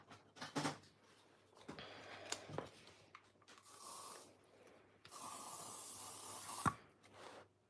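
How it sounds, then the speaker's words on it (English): Cheap hairspray used as a fixative on a mixed-media craft piece with beads and glitter, heard as two hissing aerosol bursts, the second longer, close but soft, among quiet handling noises. "If you need an idea for the fixative, hairspray. Hairspray does the job really well."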